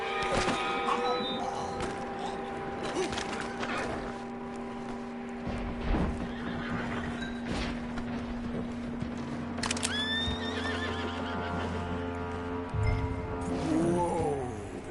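A horse neighs and whinnies amid clopping hooves in the Red Dead Redemption II video game world, with musical tones and ambient sounds layered throughout and a loud whinny near the end.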